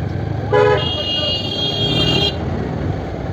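A vehicle horn blares for nearly two seconds over the rumbling engines of a heavy traffic jam, close and loud, then cuts off, leaving the idling traffic noise.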